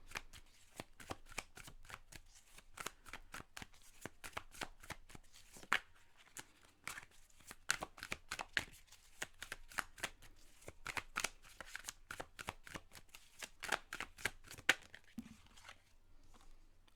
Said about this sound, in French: on va aller sortir un petit 5 cartes